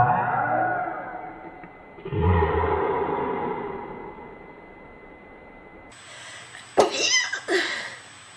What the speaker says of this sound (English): I manage to sneeze most every time I'm filming.